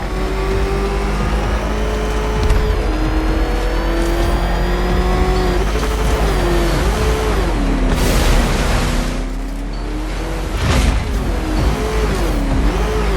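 A ramshackle car engine in Batman: Arkham Knight revs loudly and steadily, its pitch rising and dipping in waves with a couple of sharp bursts near the end, heard close with no talk.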